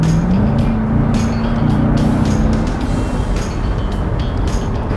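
Chevrolet Corvette C7 Grand Sport accelerating in third gear on a road, a dense engine drone mixed with tire and wind roar, loud and steady throughout.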